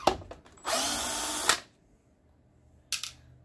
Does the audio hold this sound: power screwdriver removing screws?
yes